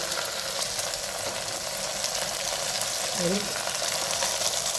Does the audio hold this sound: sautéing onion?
yes